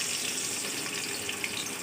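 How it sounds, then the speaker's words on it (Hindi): Chopped onions hiss and sizzle as they drop into about half a cup of hot oil in a pressure cooker, a steady, dense frying noise heard close up with no voices. "कुकर में मैंने ऑयल ले लिया है तकरीबन आधा कप। अब उसमें मैं ये प्याज शामिल"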